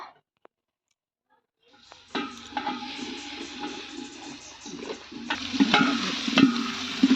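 Carrot and potato frying in oil with dry chilli, bay leaf and panch phoron, starting after a near-silent pause; loud sizzling with scraping stir clatter and clicks, growing busier toward the end.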